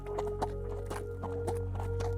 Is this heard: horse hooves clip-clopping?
yes